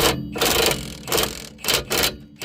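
A Milwaukee impact wrench turns a rear hub bolt on a 2015 Chrysler Town and Country, heard close and loud in several harsh, buzzing bursts with brief gaps between them.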